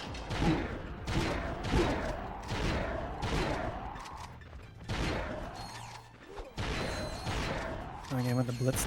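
The blitz gun in Ratchet & Clank: Going Commando fires repeatedly at enemies, producing a steady rhythm of blasts roughly every second mixed with impact and mechanical game sounds, while a person talks over the action.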